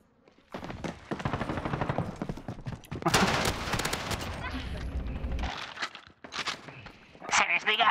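Gunfire in Call of Duty Modern Warfare, bursts of rapid shots with heavy recoil mixed with footsteps and game effects, with a player talking over much of the action.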